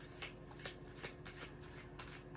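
Playing cards are shuffled close by in soft, rapid riffling bursts over a steady low hum, quiet and with no voices.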